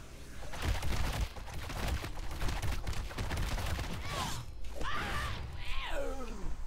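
Bombs explode in World of Warcraft with a dense, continuous crackling roar of blasts, followed by a few sweeping whooshes near the end.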